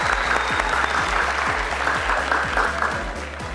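Studio audience applauding steadily on a Persian-language Family Feud-style game show, a dense, loud wash of clapping that fills the whole stretch with no talk over it.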